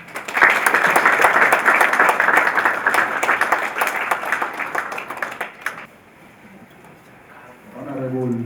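Audience at the Nairobi County launch of an action plan to prevent and counter violent extremism applauds to welcome the chief guest, sustained loud crowd clapping that fades out after several seconds before a voice resumes.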